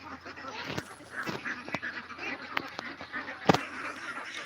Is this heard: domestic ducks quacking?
yes